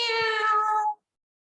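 A voice imitates a cat with a single loud, drawn-out meow, held for nearly a second before cutting off sharply into silence.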